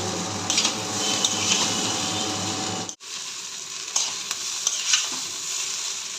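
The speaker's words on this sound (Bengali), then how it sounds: "মশলাটাকে ভালো করে মিশাতে হবে চাউমিন" Chowmein stir-fried with spices in a pan, a steady close sizzle with repeated stirring and scraping, briefly cutting out partway through before resuming.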